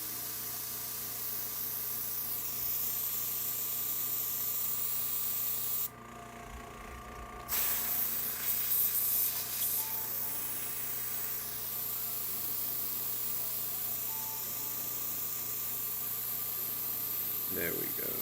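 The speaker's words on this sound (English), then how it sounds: "Still spraying light though" An airbrush sprays paint in a light, steady hiss for weathering an HO scale restaurant model, breaking off briefly for a second or two before resuming, with a constant low hum in the background.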